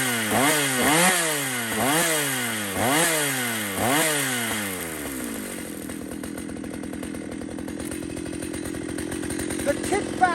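A chainsaw is revved in several rising and falling bursts, then settles into a steady, lower idle-like running drone, close and loud.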